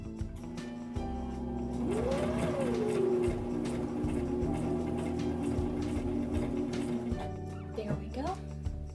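A home sewing machine stitches fabric for a pillow in a rapid, close, rhythmic whir lasting several seconds before stopping, with a faint whimpering or squeaky tone rising over it midway and a few soft clicks at the end.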